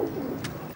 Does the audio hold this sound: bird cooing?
yes